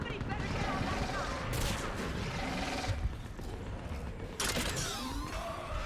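A mounted gun firing in Mass Effect 3, bursts of rapid shots with bright cracks between creaking mechanical sounds, mixed with game noise and voices nearby.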